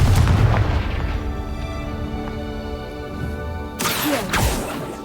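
A Confringo spell blast in the game Hogwarts Legacy bursts with a heavy boom at the start, its rumble fading over a few seconds before a second crashing impact lands near the end.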